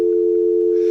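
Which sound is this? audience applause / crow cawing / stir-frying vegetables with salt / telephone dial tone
telephone dial tone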